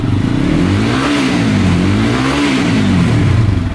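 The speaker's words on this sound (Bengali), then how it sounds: "গাড়ির সাউন্ড পুরো মাখন।" A Lifan KPT 4V motorcycle engine revs loudly and close up during servicing, its pitch swelling and falling back in two smooth rev cycles over a steady idle.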